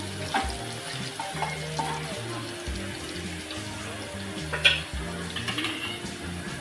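Crushed ginger and garlic sauté in a hot pan with a soft, steady sizzle, partly masked by a looping tonal background melody.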